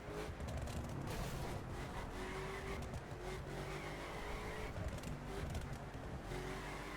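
A drift car in a racing video game runs down a long straightaway, its engine droning steadily and loud with shifting tonal revs over a dense, continuous bed of road and game noise.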